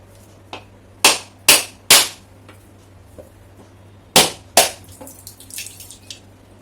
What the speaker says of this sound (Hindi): मैं ये कैसे तोड़ती हूँ, मैं हथौड़े से तोड़ती हूँ